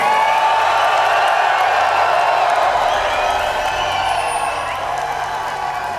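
A large audience cheering and shouting in a big hall at a League of Legends esports showmatch, a loud continuous roar of voices that holds steady throughout.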